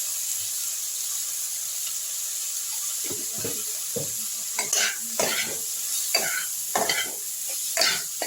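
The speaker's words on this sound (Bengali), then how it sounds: "পেঁয়াজের সঙ্গে একটু আলুটাও আমি ভাজা ভাজা করে নিচ্ছি" Potatoes and onion fry in a pan over a constant hiss and sizzle, with a series of scraping stirs that grow busier in the second half, close and clear, with no talk.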